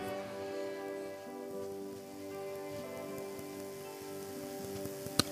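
Heavy rain makes a constant hiss that fills the whole stretch and stays even throughout. A soft, sustained tonal drone runs underneath, and one brief sharp tap comes near the end.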